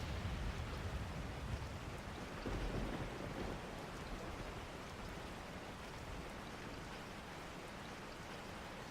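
Steady rain in the Resident Evil 4 video game, a dense hiss of falling water with a low rumble swelling early on, constant and enveloping with no voices.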